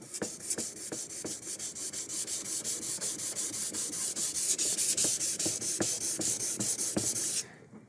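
Rhythmic dry scraping of 3M 600 grit paper on a sanding block over a lacquer wood finish, with quick back-and-forth strokes repeating steadily and close up until they stop near the end.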